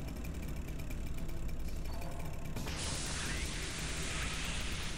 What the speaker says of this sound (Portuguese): Soldando. Soldando